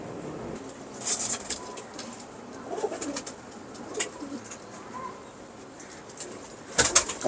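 Pet pigeons of a prized patterned breed coo in low soft bursts, with occasional sharp wing flaps and clatter, near the listener and no talk.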